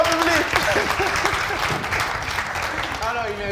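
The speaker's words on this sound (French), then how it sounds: "Applaudissements au public." A studio audience at a televised entertainment show claps steadily throughout, with a voice talking over the applause.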